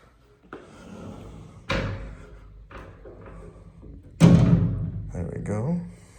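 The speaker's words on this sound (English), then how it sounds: "We have glass sliding doors." Glass sliding doors in a house rolling open and shut, with several sharp thuds as panels hit their stops, separated by quieter rumbling slides, heard close by in a quiet room.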